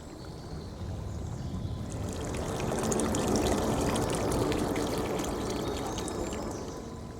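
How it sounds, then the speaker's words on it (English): Rainwater rushes off a hillside in a forest, a steady broadband wash that swells in the middle and stays loud throughout, with spattering, splashing detail on top. "The water's like whooshing off."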